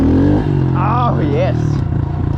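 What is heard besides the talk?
Honda CRF110 dirt bike engine revving during first gear wheelies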